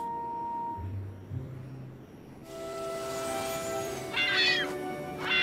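Cartoon birds, likely ducks, give a short burst of quacking calls late in the scene of an animated children's show, over a steady musical tone and background score.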